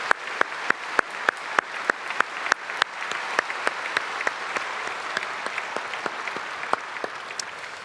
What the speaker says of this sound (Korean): 잠깐 자리에서 일어나시면 우리 박수로 감사하고 또 축복하겠습니다.